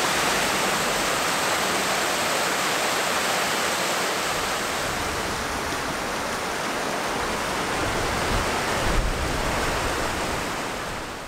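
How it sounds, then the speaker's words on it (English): River rapids on the Isle of Man near a large waterwheel, a steady broadband rush of turbulent water that stays loud and even throughout, with no voices. "They didn't tell us about the rapids."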